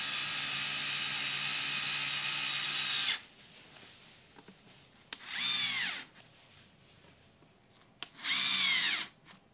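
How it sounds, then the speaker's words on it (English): A Black & Decker Gyro electric screwdriver drives a screw, whirring steadily for about three seconds up close, then two shorter bursts follow after a quiet pause. "you can push down on it and turn while you're cranking your screw"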